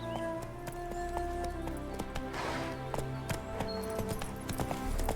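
Roach, the horse in The Witcher 3, clip-clops with quick regular hoofbeats in a dense game soundscape of layered music and ambience. The galloping rhythm carries on steadily throughout.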